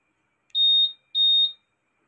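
Two identical high-pitched electronic beeps from a Honda Click scooter's answer-back alarm, each lasting about a third of a second with a short gap between, clear and close with nothing else around them.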